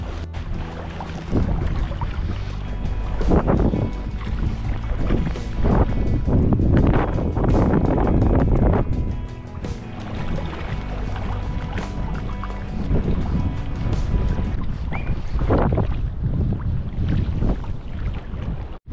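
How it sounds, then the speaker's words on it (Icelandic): Strong gusts buffet the microphone beside a salmon river in Iceland, a loud rumbling roar that surges and eases over the whole stretch with no voices. "It's a little bit windy."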